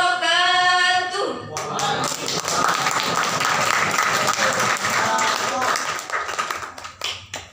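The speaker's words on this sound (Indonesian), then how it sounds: "tepuk tangan sekali lagi teman-teman" At an Indonesian Quran recitation competition, a crowd claps warmly after a speech, a sustained patter of many hands that follows a spoken voice and fades out toward the end.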